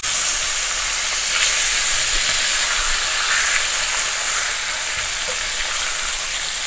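Pork chops seasoned with kosher salt and black pepper sizzle steadily in a frying pan, a loud, continuous hiss of frying fat that stays even throughout with no talking.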